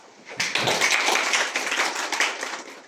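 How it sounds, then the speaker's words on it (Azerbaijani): A standing audience at a book presentation in a history and local-lore museum applauds a martyr's mother, a burst of dense clapping that starts suddenly and holds steady for a couple of seconds, close and fairly loud. "Əziz şagirdlər, gəlin bir şəhid anasını ayaq üstə alqışlayaq."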